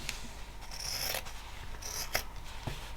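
Scissors cutting through cereal box cardboard, a few close crisp snips with scraping blade noise between them, alone and fairly quiet.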